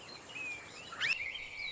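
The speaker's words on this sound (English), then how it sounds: "I hear so many bird sounds." Birds call in a tropical forest, a few thin chirps and one brief rising whistle, faint and distant over quiet background.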